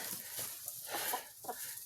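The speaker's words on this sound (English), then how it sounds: "What are you doing, chicken? Are you dust bathing?" A chicken dust bathing outdoors on a snowy farm gives a few soft, low clucks, faint and close, with quiet scratching between them.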